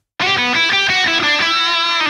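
A distorted electric guitar played through a Headrush Gigboard with reverb starts abruptly and rings on in a loud, sustained, harmonically dense tone with rhythmic pulses, heard alone.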